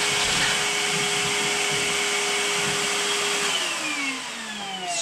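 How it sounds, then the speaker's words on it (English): A shop vacuum hooked up to a Ron Paulk-style workbench in a garage runs with a loud, steady, close whine, its pitch sliding down as the motor spins down near the end. "Just love having the vac hooked up."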